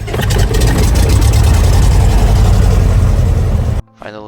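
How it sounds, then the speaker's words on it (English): A Cessna 172 airplane's piston engine roars loud and close in a steady, dense drone for nearly four seconds, then cuts off abruptly into near silence. "we plug in the key and fire off the engine by turning to the right"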